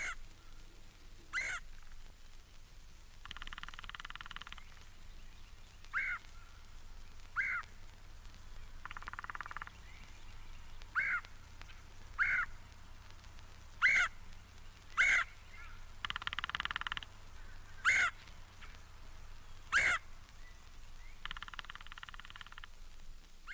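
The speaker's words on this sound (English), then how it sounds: "The abundant, flashy, red-headed woodpeckers." Red-headed woodpecker calls from an archival bird song recording, a series of harsh, raspy churring notes repeated at intervals over steady background hiss, interspersed with sharp single calls.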